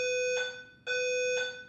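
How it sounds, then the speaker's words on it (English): Fire alarm going off during a building alarm test, a loud steady electronic tone with harmonics pulsing in two long on-off cycles, close and alone with no talking. "We just had a little fire alarm test."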